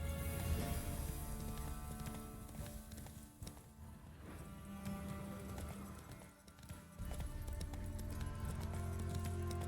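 Horse hooves clip-clopping at a trot in the open-world video game Witcher 3, a steady rhythmic beat under continuous game music and ambience, with no talking.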